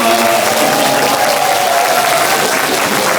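A large audience at a Busan talk concert claps loudly to welcome two guests onto the stage. Dense, continuous applause with a few faint cheers mixed in holds steady throughout.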